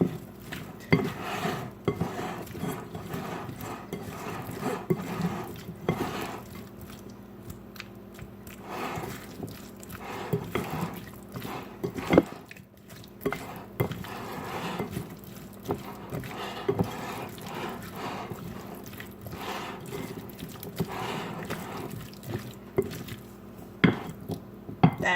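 Ingredients dressed with olive oil are tossed and stirred in a bowl with a utensil, giving repeated irregular clinks and scrapes against the dish and soft shuffling handling noises in a home kitchen.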